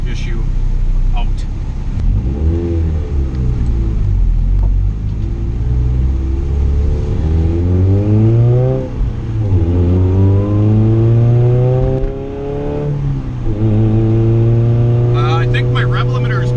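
A high-boost turbocharged Honda Civic GSR on a Hondata S300 tune pulls hard down a street, the engine note climbing through several gears with rising harmonics and brief dips at each shift, loud and close.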